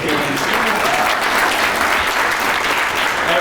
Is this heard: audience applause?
yes